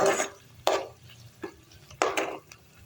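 Garlic being stirred in a pan while cooking Şehzade kebab with potatoes: four distinct scraping, clattering stirs at uneven intervals, close and fairly loud, with quiet gaps between them and no talk.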